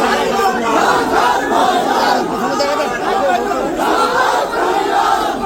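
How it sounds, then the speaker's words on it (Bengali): A large crowd chants Joy Bangla slogans at a courthouse, a dense, loud, continuous roar of many voices shouting together without pause. "স্লোগান দেওয়া হইল জয় বাংলা বিলা"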